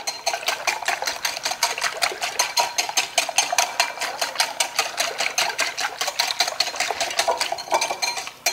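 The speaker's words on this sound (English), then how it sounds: "And then you're going to whisk that up." Dry pancake batter ingredients with kosher salt being whisked in a bowl, a fast, even train of light scraping clicks repeating for several seconds, close and alone without talk.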